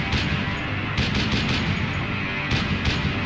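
Machine gun fire from enemy lines in a World War I battle at the Argonne in 1918, a dense, continuous roar of rapid gunshots with louder bursts punching through a sustained wall of battle noise.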